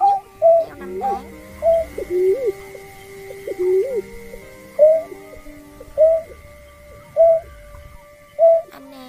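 Greater painted snipe calls come as a regular series of short, hollow, hooting coos, about one every second or so, loud and close over a faint steady background tone.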